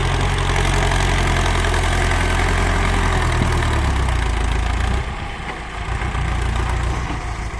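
A Ford 7740 tractor grading land and clearing tree stumps runs with a loud, steady diesel drone and deep low rumble, close by, easing slightly lower for a moment before resuming its constant roar.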